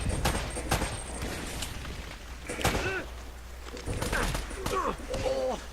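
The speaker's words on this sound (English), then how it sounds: "That's a grenade." Gunfire crackles and explosions thump in the Uncharted video game, with bursts of shots and a couple of booms over a busy background of game sounds, loud and close.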